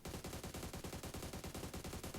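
Rapid automatic gunfire in the mobile battle-royale game PUBG Mobile, a fast even burst of repeated shots filling the whole stretch, close and steady with no voices.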